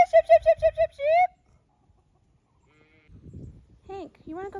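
Sheep on a farm answer a call with a quick series of loud, wavering bleats, followed by a longer drawn-out bleat. After a pause, quieter rustling and more bleats come from nearby.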